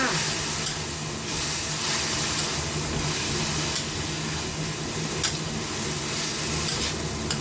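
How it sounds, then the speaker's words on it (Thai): Beef and morning glory stir-fry with soy sauce in a hot pan, giving a continuous loud sizzle with repeated scraping strokes of a spatula throughout, close up. "จากนั้นก็ผัดเลยจ้า"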